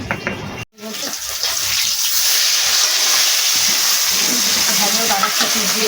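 Tap water pours steadily and loudly into a kitchen sink while fish is being rinsed by hand, a continuous close rushing after a brief cut, with faint clatter beneath it.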